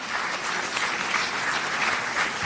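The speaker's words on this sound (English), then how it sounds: "Let's give a big round of applause, a big welcome to sir." Applause from an audience welcoming a guest at an academic event, a dense, even wash of clapping from many hands, fairly loud and sustained throughout.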